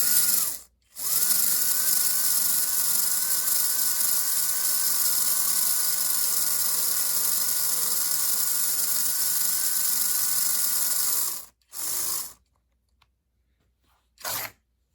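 An H.O. scale 4-gear slot car motor whines at a steady high pitch for about eleven seconds, stops, then gives two short bursts, close and alone without talk.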